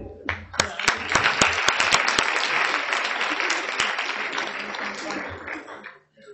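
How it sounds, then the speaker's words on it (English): A conference audience applauds after a presentation, with a loud, sustained wash of many hands clapping, sharp individual claps standing out at first, then fading out after about six seconds. "another round of applause"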